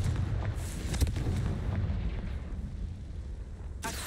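A Confringo fire spell goes off in the video game Hogwarts Legacy, a loud booming blast with rumbling low end that fills the clip, followed by a brief sharp burst near the end.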